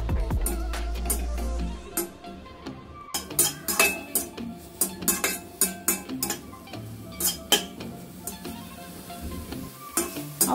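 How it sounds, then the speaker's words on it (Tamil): Mint leaves being sautéed in a pan for mint powder, with a spoon stirring and scraping in repeated clinks and scrapes over a soft sizzle, after a brief low rumble at the start; no talking. "புதினால ஈரப்பதம் இல்லாமல் நல்லா வதக்கி எடுத்துக்கோங்க."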